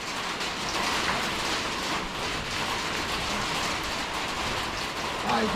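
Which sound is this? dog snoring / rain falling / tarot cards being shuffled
rain falling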